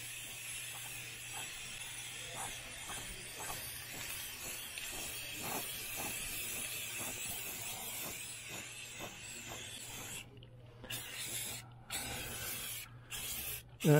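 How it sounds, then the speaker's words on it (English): Aerosol paint sprays in steady continuous hissing bursts over the spokes of a cycle kart wheel, with short pauses between passes and a brief rattle near the end. "Spraying the spokes first."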